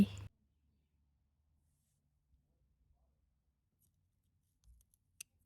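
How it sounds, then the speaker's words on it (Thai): Scissors snip succulent stems from a garden bed in a couple of sharp, quiet clicks near the start and end, with long near-silence between. "เราก็จะตัดกิ่งจากแปลงนี้เลยค่ะ"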